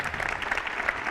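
A live audience at a conversation event claps together in a steady, fairly soft patter of many hands, with no voices on top.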